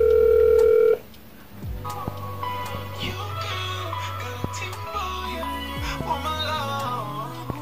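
A phone dialing out before a call, with a loud steady tone at the start followed by sustained low tones and faint clicks and beeps, heard alone with no talking.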